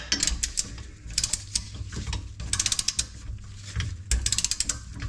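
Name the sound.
ratchet with Tekton socket tightening lock nuts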